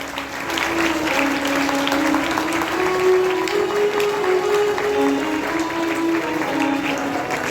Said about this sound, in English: now I request all of you to clap loudly